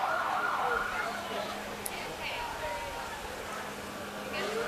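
An EMS ambulance siren sounds faintly at a small-town festival parade, a rising and falling wail that is distant and mostly buried under people talking nearby.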